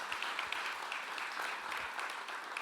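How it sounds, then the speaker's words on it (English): Brief round of applause for a team at a conference session, moderately quiet and steady, with individual claps audible through the dense clapping of a seated audience. "Can we give them a round of applause?"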